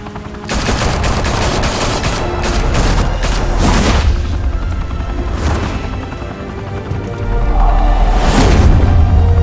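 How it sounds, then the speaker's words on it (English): A loud, sustained fusillade of gunfire in the Batman Telltale video game, with dense rapid shots and booming impacts filling the whole stretch, no talking over it. "Open fire!"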